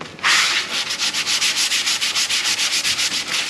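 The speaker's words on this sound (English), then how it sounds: "And I've just kind of got to sand down the edges." Sandpaper is rubbed back and forth along the edges of a newly glued wooden box, a fast, even rhythm of about a dozen loud, raspy strokes close up.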